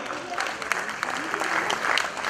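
Audience applause after a short stage play about Veer Chandra Singh Garhwali, loud sustained clapping close by with sharp individual claps standing out, a voice speaking under it.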